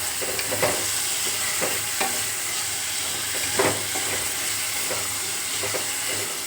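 Tomatoes being mixed into an onion and green chilli curry in a pan: continuous frying hiss with soft, repeated stirring scrapes, close and fairly loud, over a low steady hum.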